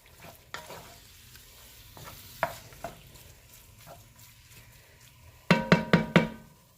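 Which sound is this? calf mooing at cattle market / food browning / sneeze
food browning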